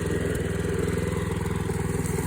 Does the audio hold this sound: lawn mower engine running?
yes